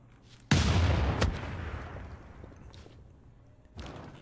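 Artillery firing in the video game Civilization VI, one loud booming blast that rolls off slowly into a long decaying rumble, followed by a smaller thump near the end.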